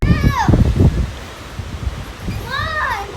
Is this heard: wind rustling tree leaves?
yes